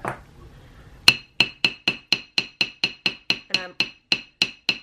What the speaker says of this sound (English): and I'm going to hammer the coil that I just made.